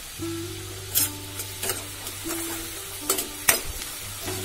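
Curry leaves and a small tomato being stirred into a pan of mixed vegetables, with a continuous sizzle, several sharp spoon scrapes and clinks against the pan, and a low hum running underneath.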